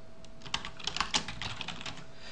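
A name is typed on a computer keyboard in a quick run of light, close key clicks with uneven rhythm over a steady background hiss.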